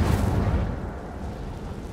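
The Incendio fire spell bursts against an obstacle in the game Hogwarts Legacy. A heavy, booming whoosh opens loud and close, then rumbles on as the flames settle and fade.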